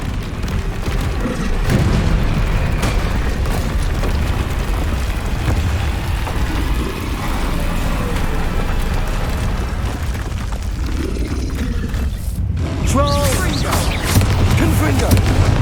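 Combat spells in Hogwarts Legacy set off repeated booming blasts and explosions over a dense, continuous battle din, with voices calling out among the impacts.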